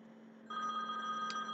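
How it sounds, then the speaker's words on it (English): Old telephone ringing faintly in a room, a single sustained electronic ring tone starting partway in and continuing steadily with no voices. "the old telephone is ringing"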